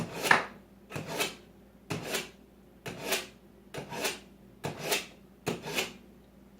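A kitchen knife is drawn tip down along a sharpening steel, giving seven evenly spaced rasping scrapes in a quick, steady rhythm, close and clear with no talking.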